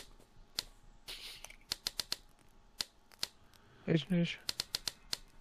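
Crisp typewriter-like key clicks come in uneven bursts during a multiplayer survival game session, and someone speaks briefly partway through.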